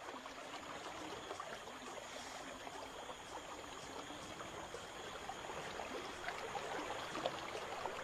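A stream flowing near waterfalls gives a faint, steady rush and trickle of water, continuous and even with no voices.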